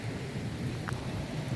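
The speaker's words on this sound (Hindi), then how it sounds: "अब नाज़म कॉलोनी पे बारिश की देखें रफ्तार" Heavy monsoon rain pours steadily over a residential colony, a dense continuous hiss with a low rumble beneath, no voices.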